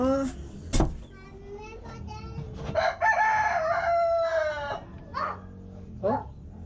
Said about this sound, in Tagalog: Nagagalit ata yung manok.